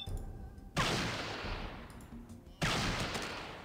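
Two loud gunshots from a weapon in Fallout 2, each a sharp blast with a long decaying tail, the second about two seconds after the first, with no other sound between them.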